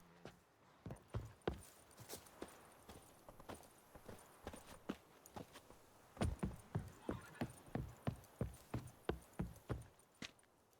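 Hooves of the horse Roach in The Witcher 3 clop steadily on a hard surface, a regular trotting rhythm of sharp, close, fairly quiet impacts that keeps going evenly to the end with no voices over it.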